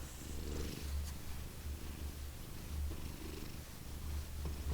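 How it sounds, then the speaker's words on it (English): A pet cat named Miles purring up close, a low rhythmic rumble pulsing in repeated breaths, with no voices over it. "See if you can hear him purring, maybe."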